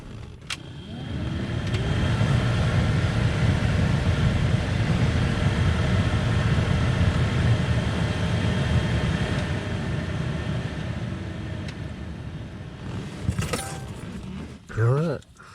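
A blower motor fan in a 2011 Ram 1500 runs steadily for most of the stretch, a continuous whirring hum from inside the cab that fades slightly toward the end before a few brief knocks and clicks.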